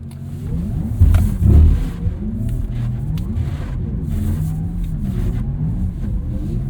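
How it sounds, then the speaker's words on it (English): A 2023 Porsche Taycan Turbo electric car sliding on a wet track at a Porsche driving center, with a close, steady whine of motor and tire noise swelling in a brief surge, then holding steady. "What a wild experience sliding an electric car."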